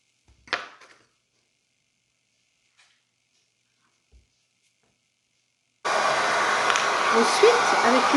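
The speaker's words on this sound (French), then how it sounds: "avec l'aide d'un sèche-cheveux, je vais venir raffermir un tout petit peu ce serpentin" After a few faint knocks and near silence, a hair dryer switches on and blows with a steady loud whoosh, close by, to the end, firming a clay pottery coil.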